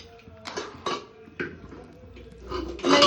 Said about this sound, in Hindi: तो अब इसे एक बार स्टर कर लेंगे।